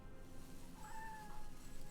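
A single cat meows once in a drawn-out, wavering tone, moderately close, over a low background murmur of game sounds; no speech.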